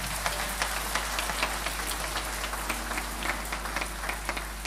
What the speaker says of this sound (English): Clap for that grace.